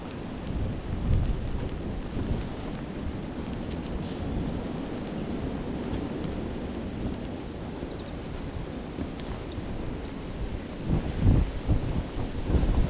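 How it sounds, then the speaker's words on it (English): Steady rain falling outdoors on a wet walk toward a packhorse bridge, a constant broadband hiss with some wind buffeting the microphone, holding level for the whole stretch with slight gusts near the end. "it's raining"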